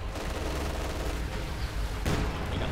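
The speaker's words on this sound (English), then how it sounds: "Puma there firing over its 50mm cannon and its coaxial machine gun" A Puma armored car in Company of Heroes 2 fires its 50mm cannon and coaxial machine gun, dense overlapping gunfire bursts with a sharp louder report near the end, set over a continuous battle din.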